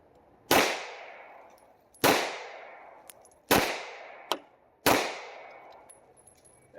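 Four sharp pistol shots from a Rock Island STK 100 at a shooting range, spaced roughly a second and a half apart, each loud and close with a long ringing decay; a fainter, smaller crack falls between the last two.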